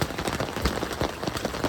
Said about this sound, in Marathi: लय बेकार पावसानं तर एवढा राडा केला